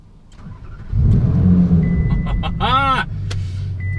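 A Ferrari engine cranks and fires up, settling into a low rumbling idle close by, with a short rising electronic chirp and whine during the start.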